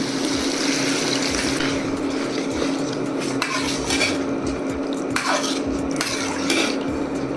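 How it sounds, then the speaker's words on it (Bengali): Water pours into a pot of mung dal amid loud clattering of metal utensils and steady stirring, close and busy throughout. "দিয়ে দিব পরিমাণ মতো পানি"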